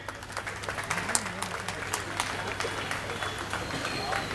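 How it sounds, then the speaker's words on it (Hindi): An audience at a Hindi comedy poetry gathering (kavi sammelan) applauds steadily, a dense wash of clapping with a voice rising briefly over it. "एक बार जोरदार तालियां बजाइए।"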